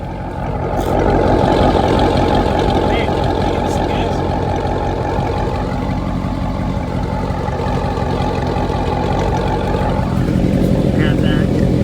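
A car with a Corsa cat-back exhaust, previously run as a straight pipe, idles with a steady, loud, deep rumble that holds unchanged for about twelve seconds, close by and with no talk over it.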